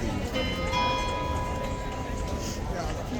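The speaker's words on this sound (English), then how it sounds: "There's the bell." A bell rings at Horse Guards, a clear sustained tone that lingers over steady outdoor crowd noise, with voices talking in the background.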